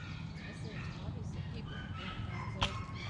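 Several dogs bark, yip and whimper in a kennel-like chorus, with one sharper bark standing out near the end over steady low background noise.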